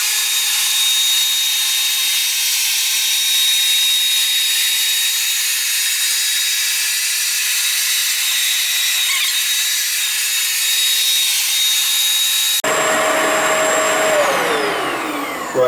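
A Bissell ProHeat 2X Revolution Pet Pro carpet cleaner makes a wet pass over carpet, a loud, steady motor whine and suction roar that shifts pitch and drops near the end.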